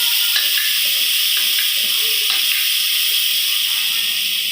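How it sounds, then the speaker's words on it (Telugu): Ginger garlic paste sizzles in hot oil with onions, a loud, steady hiss of frying that runs continuously with a few faint clinks of a utensil. "ఉల్లిపాయ నూనెలో మగ్గిన తర్వాత 1 స్పూను అల్లం వెల్లుల్లి పేస్ట్ వేయాలి."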